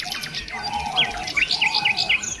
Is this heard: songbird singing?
yes